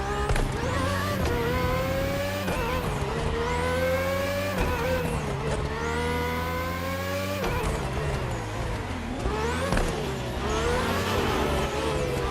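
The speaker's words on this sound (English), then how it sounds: "And the engine sounds wonderful." Car engine in The Crew Motorfest revving hard uphill, climbing in pitch through repeated gear shifts with brief drops between, loud and close for the whole stretch.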